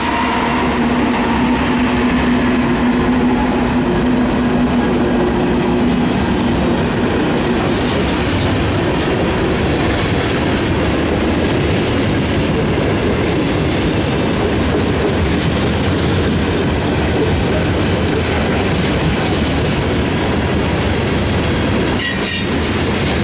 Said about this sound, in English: an SD60E, a Norfolk Southern exclusive locomotive that was rebuilt from an EMD SD60